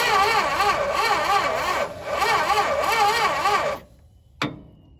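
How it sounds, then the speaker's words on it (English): A 1971 Dodge Charger Super Bee engine cranks over slowly and fails to start, a loud, close, labored rhythmic churning of the starter that stops partway through, pauses briefly, runs again, then cuts off, followed by a single sharp click. "it's still cranking over pretty slow"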